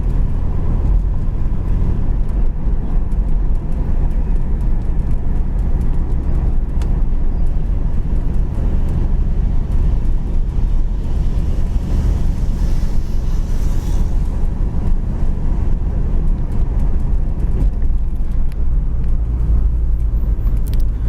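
A 1981 Pontiac Trans Am cruising down the road, its engine a steady low rumble under constant road and wind noise, loud and close throughout with no speech.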